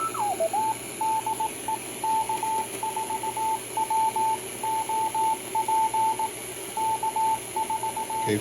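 Morse code on the 80-meter amateur band through a direct conversion receiver: a steady keyed tone beeps in irregular dots and dashes over constant radio hiss, with a brief tuning sweep at the start.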